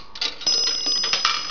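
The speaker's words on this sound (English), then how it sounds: "2 for a dime" Two bright bell dings from the coin chute of a 1960s Western Electric three-slot pay phone, marking a dime, ringing close and clear with a lingering metallic tone.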